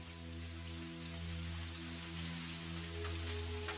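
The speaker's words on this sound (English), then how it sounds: "Bubbles and rain are the two things Lily can always depend on at this time of day" Rain falls steadily on a quiet early morning at a bakery, a soft continuous patter alone with a low steady hum underneath.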